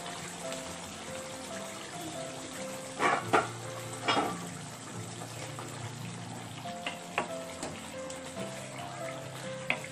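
Masala chicken simmering in a pan gives a soft, continuous bubbling and sizzling, with a few sharper clinks or spatters breaking through now and then.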